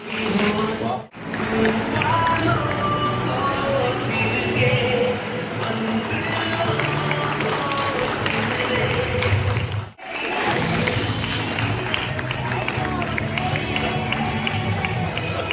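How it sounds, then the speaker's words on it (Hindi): Audience applause at a felicitation program in Berhampur, a sustained crowd of clapping with some cheering, steady and fairly loud, with brief breaks near the start and around the middle. "Give a big round of applause."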